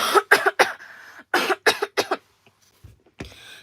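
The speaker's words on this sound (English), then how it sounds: "I'm just coughing up in here." Several hacking coughs in quick clusters, close up, followed by a short pause and one more cough.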